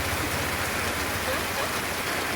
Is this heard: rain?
yes